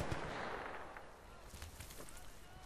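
Rapid AK-variant rifle fire in the video game Battlefield Bad Company 2, a dense, fairly quiet burst of shots blending into a steady wash of battlefield noise, with a few sharper cracks near the end.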